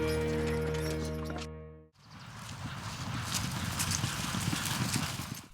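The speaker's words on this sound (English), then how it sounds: "the horses are fired up and headed out for their overnight pasture" Horses at a guest ranch outside Sandpoint, Idaho head out to overnight pasture, their hooves clip-clopping in a dense, busy patter after a brief tonal music passage, with no voices.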